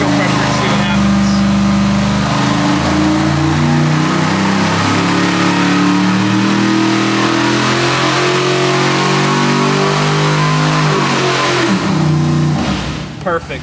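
A 1,000hp 632 cubic-inch big block Chevy engine on a dyno, running on C12 race fuel, revs hard and loud in one sustained pull, its pitch climbing and falling across the run before cutting off abruptly near the end.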